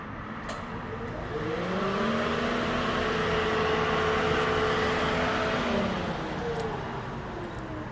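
A 2003 Mazda Tribute engine with a fuel injector misfire running steadily at idle, a smooth continuous hum with a slight rise in pitch midway, fairly close and alone.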